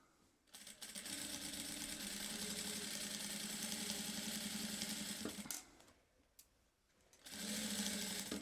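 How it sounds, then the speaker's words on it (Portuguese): A sewing machine stitches a messenger bag in a close, fast, even mechanical whir, running for about five seconds, pausing briefly, then starting again. "aí eu venho costurando."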